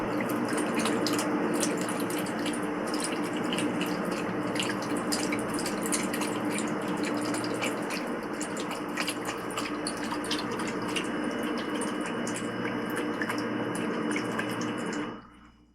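A cat drinks with its head under the spout of a pet water fountain: a continuous close trickle of running water with rapid, irregular lapping clicks that stops abruptly at the end.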